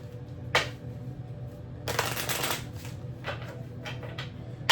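Cards from a Romance Oracle deck are shuffled and one is drawn, with a brief crisp riffle, a longer rustling shuffle, and a few lighter card flicks and taps, close and quiet with no talk.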